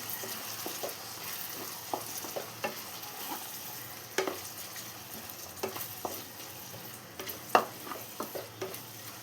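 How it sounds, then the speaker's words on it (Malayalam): Spoon stirring a mixture of soy sauce, vinegar and pepper powder in a pan for Schezwan egg fried rice, soft scraping taps in an uneven rhythm over a light sizzle, close and without voices. "ഇതെല്ലാം കൂടെ ഇനി ഒന്ന് മിക്സ് ചെയ്തെടുക്കാം"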